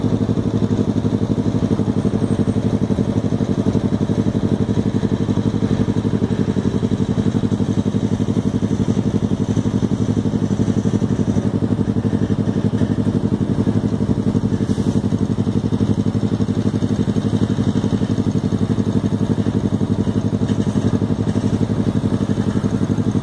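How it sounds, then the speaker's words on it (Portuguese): Steady mechanical drone of an independent motor running while it controls a precast viaduct beam during a lifting operation on a perimeter overpass construction site in Goiânia, a continuous engine-like hum with clatter holding even for the whole stretch. "O motor independente aí, para poder controlar a viga atrás."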